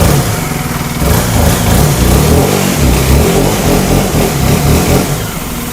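A car engine runs loud and close in a steady, throaty drone, its revs swelling and holding throughout with no pauses, and no talking is heard over it.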